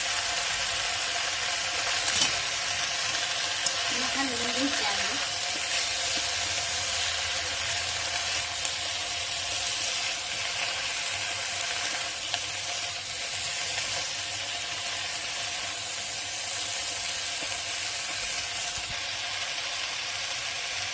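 Chopped methi (fenugreek) greens roasting in a pan, a steady, continuous sizzle and hiss lasting the whole time, with faint stirring scrapes now and then.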